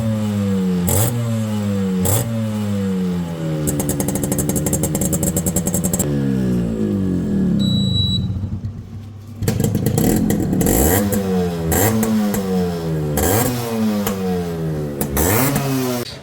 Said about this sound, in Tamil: ஸோ இப்போ இந்த வண்டியோட பீட் சவுண்டு கேட்கலாம் வாங்க.